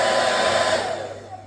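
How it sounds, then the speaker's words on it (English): A cheap hotel hair dryer blows a loud, steady whooshing roar close by, then its airflow tapers off slightly toward the end, with no talking. "Hairdryer."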